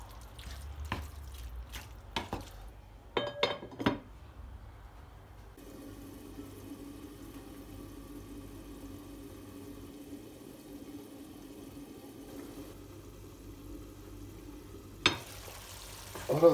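Chicken breast frying in a pan, with a few sharp utensil scrapes and clinks at the start, then a steady, moderately quiet sizzle underneath, and another knock near the end.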